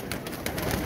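Soft pigeon calls from a captured golden-marked pigeon, brief and close, with low murmuring bird sounds running steadily through a short moment.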